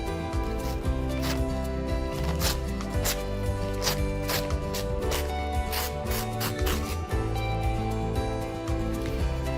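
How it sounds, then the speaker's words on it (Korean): Korean hanji paper is torn into strips by hand in repeated short, close ripping bursts at an irregular rhythm, set against a sustained soft musical background. "한지를 찢을 때 나는 소리를 들어보세요."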